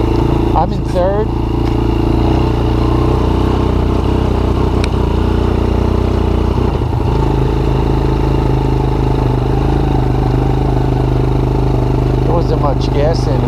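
Honda FourTrax TRX90 ATV engine running steadily while being ridden, a loud continuous mid-pitched drone with clattery gear noise, close throughout, with someone talking over it.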